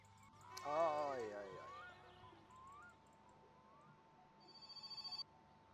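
In the My Summer Car video game, a telephone rings in short electronic bursts near the end, after someone speaks, with a faint steady hum underneath.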